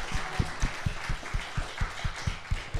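A small indoor audience at a book event claps for the author in a steady, even rhythm of distinct hand claps lasting a few seconds.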